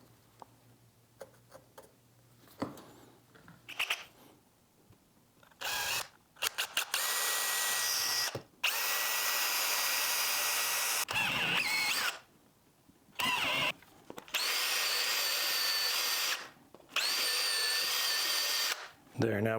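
A power drill bores holes for 6 mm machine screws in repeated bursts, some short and several long sustained whines, separated by quiet gaps with light handling noises.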